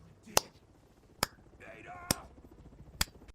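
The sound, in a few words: clapping in Resident Evil 6 video game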